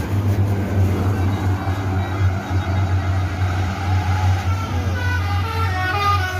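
A heavy bus drives past close by, its deep steady engine rumble and road noise continuous and loud throughout, with faint tonal horn-like sounds rising near the end.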